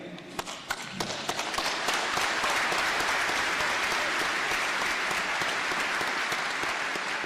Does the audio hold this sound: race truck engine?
no